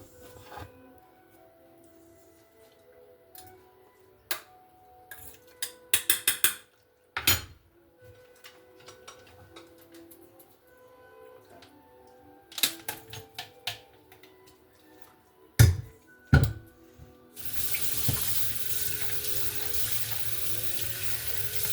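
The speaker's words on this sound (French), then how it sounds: "Voilà, mon riz il est prêt. Donc, je vais l'égoutter." Cooked basmati rice drained into a kitchen sink, with a faucet running and water splashing, broken by several sharp clatters of a pot or colander before a loud steady rush of water fills the final seconds.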